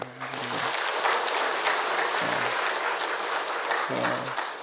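A church congregation applauds the Hosanna choir after a Sunday service anthem, a dense, steady wash of clapping from a large crowd that fills the room throughout, with brief low organ or instrument tones at the start and middle.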